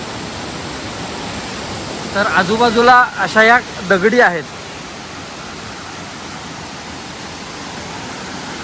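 Waterfall pouring between slabs of rock at Somtirth falls in the monsoon, a steady broadband rush filling the whole clip, with a person speaking over it for a couple of seconds partway through.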